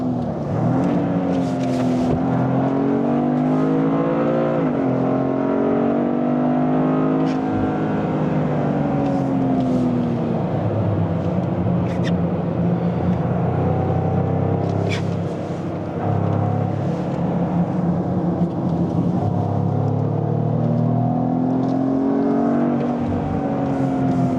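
A Toyota GR Supra or Corolla accelerates hard on a race track, its engine roaring loudly from the cabin as it rises through the gears, the pitch dipping at each shift and easing briefly before pulling again.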